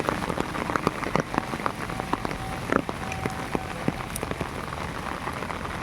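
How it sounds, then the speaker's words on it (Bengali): Steady rain patters on surfaces outdoors in a village, with scattered louder drops over an even wash of falling water, easing to a moderate shower with no voices. "এখন একটু বৃষ্টিটা কমেছে"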